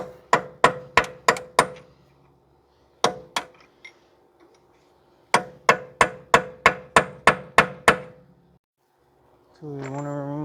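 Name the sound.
hammering to unstake a Toyota Corolla axle nut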